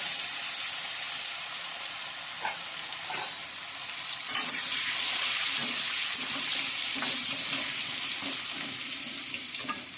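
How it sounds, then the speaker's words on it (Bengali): Potato pieces fry in hot oil in a wok, seasoned with nigella seeds and turmeric, giving a steady close sizzle with occasional stirring clatters throughout. "আলুগুলো আমি একটু ভাজা ভাজা করে নিব।"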